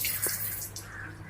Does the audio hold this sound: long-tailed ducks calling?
no